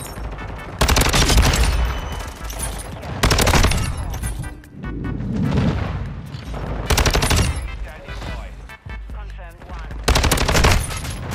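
STB 556 assault rifle firing in the video game Modern Warfare 2, loud sustained full-auto bursts separated by brief pauses, mixed with game sounds and a voice talking over it.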